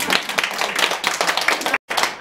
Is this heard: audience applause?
yes